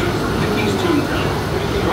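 The Disneyland Railroad train rumbles steadily along at close range, a loud continuous rolling noise while an announcement voice speaks over it.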